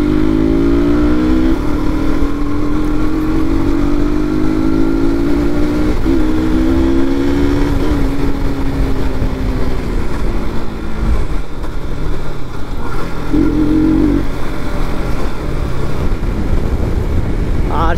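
A motorcycle with worn tyres rides along a highway near Patna, a steady loud engine drone with wind rush and shifting pitch as it accelerates, continuous throughout.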